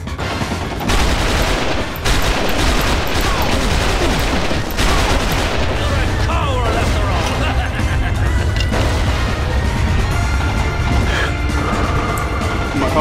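Dense, loud machine gun fire in XIII at an SSH-1 secret military base, relentless overlapping bursts with crashing impacts that barely let up from start to finish.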